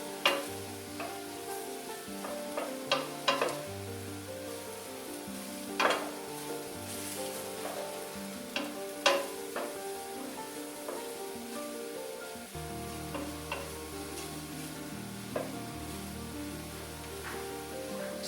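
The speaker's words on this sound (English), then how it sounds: "I try and put it in one spot and kind of gradually stir it into the veggies so it doesn't get all clumpy." Flour is gradually stirred into vegetables sizzling in a pot for New England clam chowder: a steady close frying hiss with repeated spoon scrapes and clinks against the pot, and a low hum running underneath.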